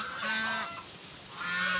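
Brown Dekalb hens give a couple of nasal, honking calls close by, two drawn-out vocalizations separated by a brief dip.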